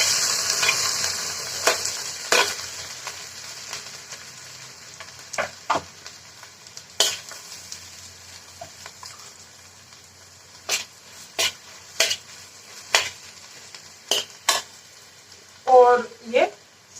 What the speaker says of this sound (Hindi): अब मैश किए हुए आलू डाल देते हैं।